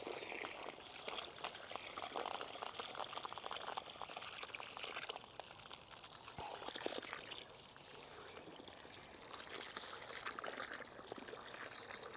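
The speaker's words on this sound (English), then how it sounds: "we'll water it in" Water pours steadily into a flower container planted with hydrangeas, a continuous soft splashing and trickling that stays faint and even throughout, with no talking.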